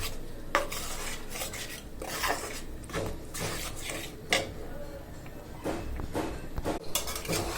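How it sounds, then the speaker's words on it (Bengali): Spice paste being stirred and fried in a pan, with a soft background sizzle broken by repeated scraping and clattering strokes of a spoon against the metal. "এটা ভালোভাবে কষে যাক মশলাটা"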